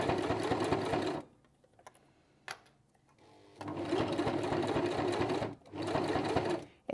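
A sewing machine stitches through three layers of leather in loud, steady bursts, stopping for a pause before running again in two more long passes, close by.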